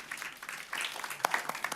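Light, sparse clapping from a conference audience greeting a tech panel speaker, a handful of separate claps rather than full applause, fairly close and brief.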